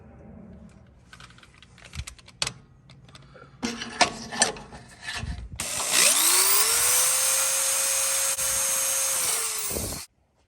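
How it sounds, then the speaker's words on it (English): Scattered clicks and rattles, then a drill with a 1/2 inch bit whines up to speed and runs steadily through a Jeep JK's steel frame for about four seconds before cutting off abruptly. "use a 1/2 inch drill bit to drill through the frame"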